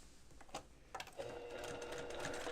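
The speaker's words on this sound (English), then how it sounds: "And I'm just going to baste that in." A sewing machine bastes a tie into a child's dress neckline, starting with a few stitches and then settling into a steady close whir.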